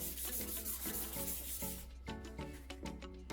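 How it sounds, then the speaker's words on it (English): Wet sanding of an old, scraped car headlight lens with P800 sandpaper gives steady, close rubbing strokes in a continuous back-and-forth rhythm, with no talking. "Sand in controlled directions and keep the surface wet so residue does not build up too heavily."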